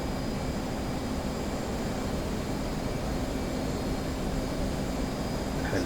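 F/A-18 Hornet jet engine in the DCS flight simulator, a steady, even broadband roar that holds unbroken with no talking.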